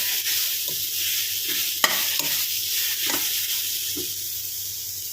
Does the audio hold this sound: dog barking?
no